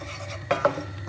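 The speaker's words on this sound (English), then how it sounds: "so just keep stirring them around" Whole spices being stirred as they toast in a dry pan, giving a couple of soft scraping clinks against a low steady background.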